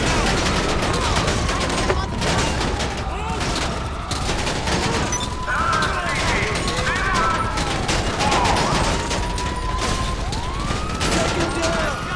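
Police gunfire in the GTA V video game: dense, loud bursts of automatic and single shots overlap wailing sirens throughout, with a voice speaking under the chaotic, sustained firefight.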